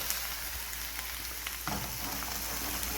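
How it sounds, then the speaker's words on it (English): Beef searing in leftover bacon fat for beef bourguignon, heard as a dense, continuous frying hiss with one soft knock partway through. "So you go and sear the beef now with the bacon fat you used before."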